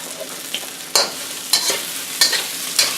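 Fried beef and garlic being stirred in a hot pan, a constant sizzle broken by four or five scraping stirs at regular intervals, close and clear, with no talk.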